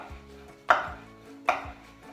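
Two sharp, close knife strokes land on a cutting board as mushrooms are sliced thinly, spaced about a second apart, with a low hum underneath and no talking.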